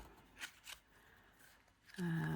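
Two quick riffling bursts of cards being shuffled, fairly close, followed by a louder steady tonal hum that takes over at the end.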